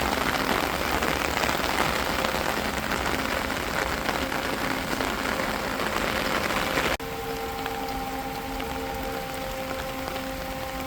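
Heavy rain pours steadily in a dense, continuous hiss, easing slightly partway through while a faint hum sits underneath.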